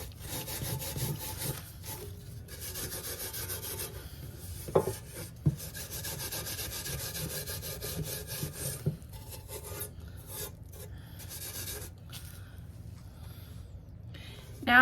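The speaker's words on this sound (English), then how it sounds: "go up and scuff up the handle a little bit to make it look like it's just old and worn" The handle of a refurbished piece is scuffed with a rasping, rubbing stroke that repeats steadily at close range, broken by a few sharp knocks.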